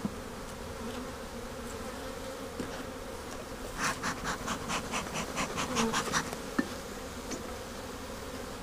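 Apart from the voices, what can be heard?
bees in a long hive colony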